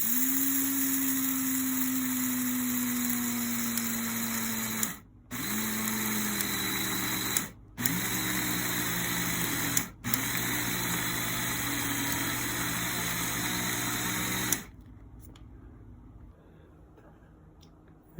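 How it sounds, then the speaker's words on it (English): Food processor grinding whole flax seeds, a steady loud whirring motor broken by three brief pauses, then cutting off to near silence at the end. "Now I'll grind up some whole flax seeds."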